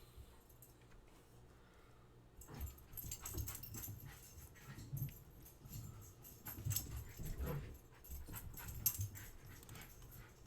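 A pet dog plays excitedly indoors with a small toy narwhal, making whimpers, yips and heavy panting in irregular bursts after a quiet couple of seconds. The sounds are close and fairly loud.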